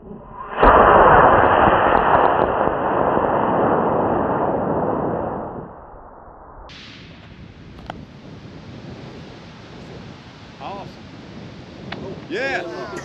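Helios model rocket, 314 grams, lifting off on an E-35 motor: a loud, sustained roaring rush that lasts about five seconds, then drops away to faint outdoor background with voices later on.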